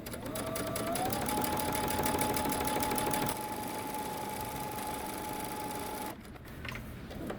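A sewing machine runs a long basting stitch at the longest stitch length, 5.0, on dress fabric, humming loud and close in one steady run that shifts pitch partway through, then stops near the end.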